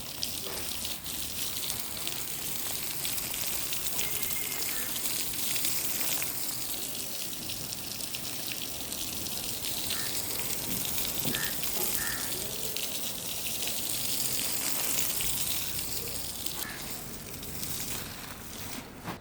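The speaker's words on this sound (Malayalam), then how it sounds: "നന്നായി വെള്ളം നനക്കുന്നുണ്ട്" A seed bed prepared with fertilizer for sowing amaranth is watered thoroughly, giving a continuous, fairly quiet gushing and splashing of water with small drips and no talk.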